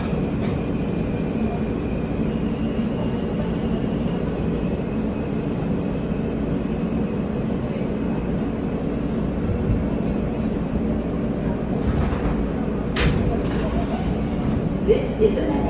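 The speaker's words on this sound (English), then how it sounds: "This is a Manhattan-bound R local train." A Manhattan-bound R local subway train in New York runs between stations, a constant close rumble of wheels and car noise inside the carriage with a few sharp clanks near the end.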